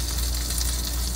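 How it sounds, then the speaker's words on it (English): A freshly baked pork Wellington sizzles just out of the oven, giving a loud, continuous crackling hiss up close with no voices. "Listen to that sizzling."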